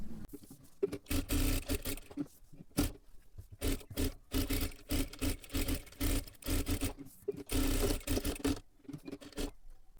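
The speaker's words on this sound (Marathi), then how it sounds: "आता इथे पाठीमागच्या सुद्धा बाजूला आपल्याला अस्तरला पूर्ण शिलाई मारून घ्यायची आहे" Sewing machine stitching the lining of a sleeve, running in repeated bursts of steady whirring and rattling with short pauses between runs.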